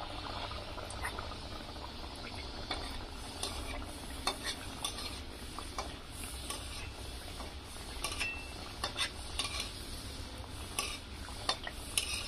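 A rolled, stuffed pastry fries in hot oil, giving a continuous soft bubbling sizzle with scattered light scraping and clinks of a utensil against the pan.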